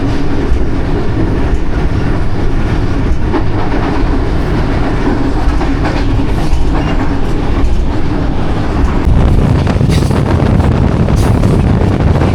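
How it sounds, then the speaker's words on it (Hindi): A train runs through Dina station on the Rawalpindi to Lahore line, with a steady, loud rumble and rhythmic clickety-clack of wheels over rail joints that continues throughout, close by, with no voices. "दीना से थ्रू पास हो रही है ट्रेन"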